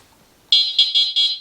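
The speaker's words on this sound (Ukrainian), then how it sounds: "Сигнал працює." The horn on a Corso Powerful under repair sounds in four quick, loud, shrill electronic beeps, close by and alone.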